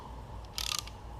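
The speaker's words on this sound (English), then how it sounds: "Put the adapter into their little handy ratchet." A small hand ratchet turning a 5/8 inch adapter gives a brief burst of rapid clicks, close and fairly quiet.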